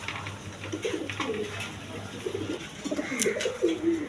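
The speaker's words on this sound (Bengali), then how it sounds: "এটা ব্ল্যাকলেস শার্টিং আর ওইগুলো মক্কি কবুতর তিন পিস" Mookee and Blackless Shorting fancy pigeons for sale coo in low, rolling bursts, close by, with soft calls clustering near the end over steady background noise.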